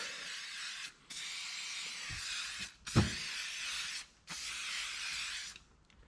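Slick Shine protectant is sprayed onto the plastic trim of a YXZ side-by-side in three long, steady hissing bursts separated by short pauses, close and fairly loud, with a faint knock between sprays.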